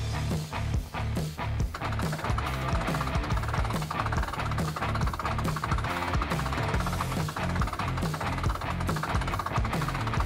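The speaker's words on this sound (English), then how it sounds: "All right, start winching." A sailboat winch grinds in a sheet line with a steady, fast ratcheting clatter and a low mechanical drone, loud and close, running continuously with no talking.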